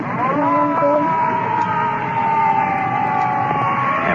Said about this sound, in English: Ambulance taking off.